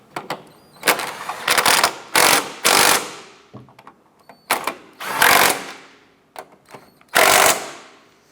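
Strut nuts on a 2004-2008 Acura TL snugged down with a power ratchet, repeated bursts of loud rapid buzzing rattle separated by short pauses, close by, no talk.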